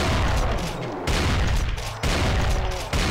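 Gunfire in the video game Brutal Doom: three dense, booming bursts of rapid shots follow one another, each about a second long, loud and close with no talking over them.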